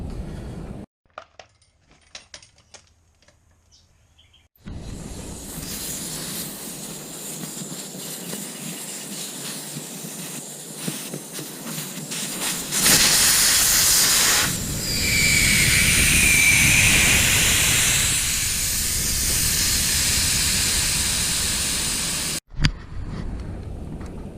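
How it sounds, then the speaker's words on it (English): Portable motorcycle compressor inflating the rear tyre of a Honda Africa Twin, a loud steady buzzing hum with airy hiss that starts after a few quiet seconds, runs for about twenty seconds, then cuts off abruptly. "we're going to pump up a rear tyre on our Africa Twin to 35"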